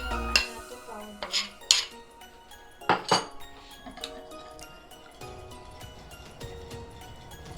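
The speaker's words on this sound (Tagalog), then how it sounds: "i-mix natin yung annatto powder" Annatto powder stirred in a bowl for tokneneng batter, giving bright clinks of a utensil against the bowl in a few quick bursts, then lighter, softer scraping and tapping over a quiet background.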